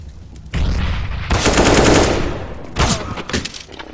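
Loud bursts of rapid automatic gunfire in CS:GO, one long sustained volley followed by a shorter burst, close and echoing.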